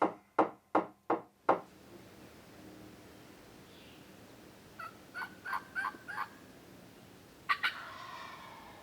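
Wild turkey gobbling in thick young-growth woods: a close burst of sharp knocking sounds at the start, then two distant gobbles rolling out from behind, faint and echoing through the brush.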